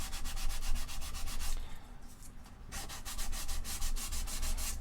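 Filler on a large model kit door is rubbed down by hand with sandpaper in quick, rhythmic back-and-forth strokes, close and scratchy, pausing briefly midway before resuming at the same pace.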